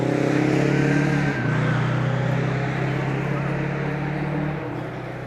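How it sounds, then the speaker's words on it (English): A turbocharged rally car engine drones loudly during a stage race, revving steadily with a brief dip in pitch, heard from nearby alongside a talking voice. "Sounds like he's still got plenty of boost from the turbo"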